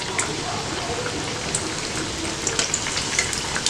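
Black chickpea vadas fry in hot oil, giving a steady, dense crackling sizzle with scattered sharper pops throughout, close and continuous with no speech.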